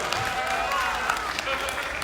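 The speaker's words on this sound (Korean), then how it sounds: "박수 치세요." An audience at a 2019 Korean disability anti-discrimination rally held by the Korea Association of the Deaf claps in a dense, steady wash of applause for two seconds, with a voice faintly carrying over the noise.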